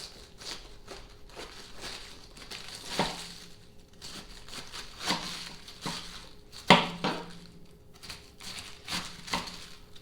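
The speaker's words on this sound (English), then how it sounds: "And we're going to chop this up." A knife chops through a head of cabbage on a board, irregular crunchy cuts and thuds spread across the clip, close but fairly soft.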